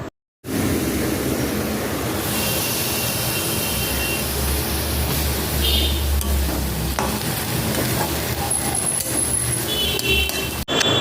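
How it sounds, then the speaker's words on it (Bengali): Potatoes frying in a pan with a few dried chillies and black cumin, a steady loud sizzle close by with occasional stirring scrapes, broken only by a brief silence at the start. "আর তারপর আলুটা ভেজে নিচ্ছি"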